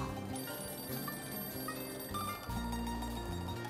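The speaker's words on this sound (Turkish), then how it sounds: "Telefon sesi miydi bu?" A telephone rings indoors in a Turkish TV drama scene, its steady repeating electronic tone sustained throughout at moderate loudness, with no talking.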